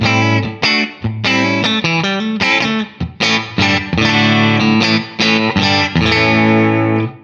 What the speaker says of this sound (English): So the first one is a room reverb, and this control will give us the pre-delay